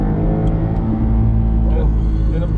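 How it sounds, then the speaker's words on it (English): A 2016 Subaru WRX STI engine rumbles steadily at close range, its low drone rising slightly in pitch as it revs. "Relatively close, but this sounds like this."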